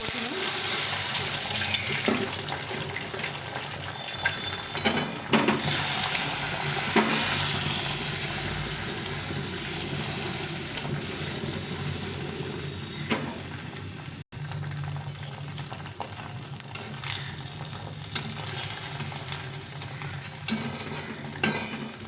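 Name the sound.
egg omelette frying in a pan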